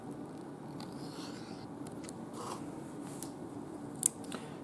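Thread being snipped by a knife while sewing a seam, a single faint crisp cut near the end over quiet room hiss.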